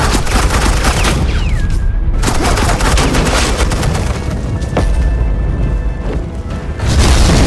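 Suppressing gunfire in the Batman: The Enemy Within video game, a loud, dense, continuous barrage of rapid shots and booms that keeps up without a break.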